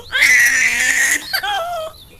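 A hungry baby cries in one loud, sustained wail that breaks off into a shorter sobbing cry, close and alone.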